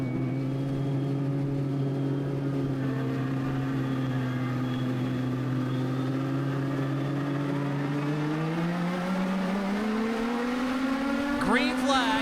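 Semi-pro legend cars roar off at the green flag of a 25-lap feature race, engines droning loud and steady as a pack, pitch climbing late as they accelerate, with a commentator talking over the engine noise.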